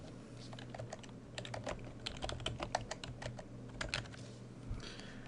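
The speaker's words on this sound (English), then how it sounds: "I'll go ahead and hit enter" Keys are clicked on a computer keyboard while working in AutoCAD 2014, with a run of crisp, close taps in an uneven rhythm that includes presses of Enter, over a quiet low hum.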